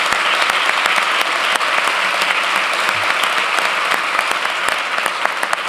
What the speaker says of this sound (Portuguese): mas me salva de palmas para ele,